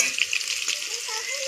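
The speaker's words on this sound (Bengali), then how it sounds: "আমার একটু আলু ভাজাটা হতে একটু দেরি হচ্ছে" Potatoes frying in a pan on a damp stove, a close, bright crackling sizzle that keeps up steadily through the brief moment.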